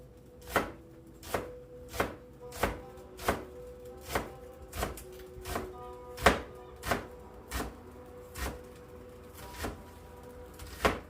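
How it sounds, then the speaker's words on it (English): Knife cutting half an onion into thin slices on a cutting board in a home kitchen, a steady run of about fifteen sharp, evenly spaced chops, close up over quiet room sound, with nobody speaking. "We're going to use half of this onion. Very thin slices."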